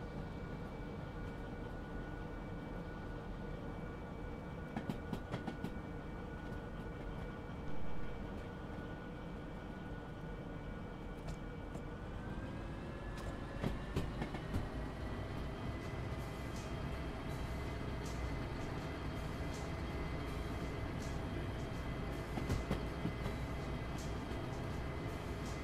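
Train rolling on rails in the video game Derail Valley after the dynamic brake is released: a steady low rumble with sustained tonal whine that rises in pitch midway as speed picks up, continuous and without talk.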